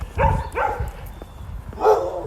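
A dog gives several short barks and yips at close range, in uneven bursts separated by brief pauses.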